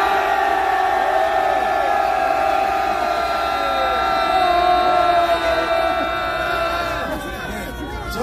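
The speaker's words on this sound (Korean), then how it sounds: "다같이 함성 10조 발사!" Crowd shouting together at an outdoor political rally in Korea, a loud sustained collective roar with a wailing, siren-like rising cheer that fades toward the end.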